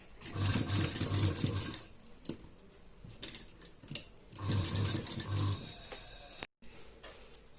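A sewing machine stitches a high neck blouse in two bursts of fast, close mechanical stitching separated by a quieter pause, with no voice.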